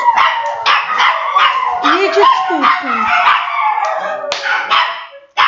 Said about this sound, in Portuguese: deu uma louca nos meus cachorros